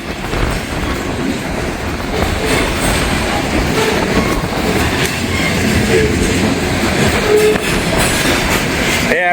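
A train rumbling past through a railway work zone on a windy day, a loud continuous roar of wheels and cars with faint clickety-clack and occasional squeals, close by and steady throughout, no speech.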